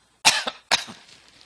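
A man coughs twice in a lecture hall setting, two sharp bursts about half a second apart with a short trailing rasp after each, fairly close and alone with no talk.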